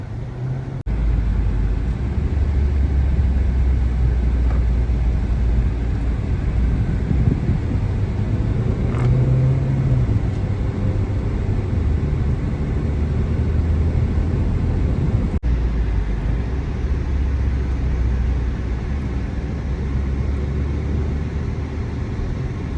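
A Renault Duster with a 1.3 turbo engine accelerates down a racetrack straight. Heard from inside, the engine drones steadily and loudly under road and wind roar, and the pitch climbs slightly partway through.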